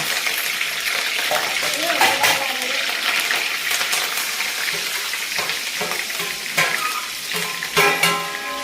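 Curry leaves hit hot oil in a pan while cooking a matki dal amti, producing a loud, steady sizzling and frying hiss with a few sharper crackles near the end.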